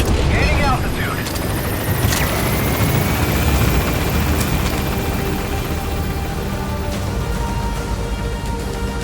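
An extraction helicopter lifts off in Metal Gear Solid V: The Phantom Pain, a loud, steady rotor-and-engine roar filling the whole span, with a voice audible over it.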